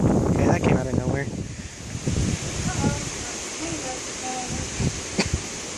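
Strong gusty wind roars and rustles through trees during a thunderstorm with 60 mph gusts and hail, buffeting the microphone steadily while people talk over it nearby.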